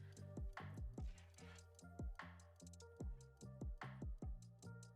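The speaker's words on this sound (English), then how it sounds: "Oh, there was like a ticking noise" A quiet, steady ticking from an unidentified source near the recording setup, with evenly spaced sharp clicks repeating about twice per second and no talking.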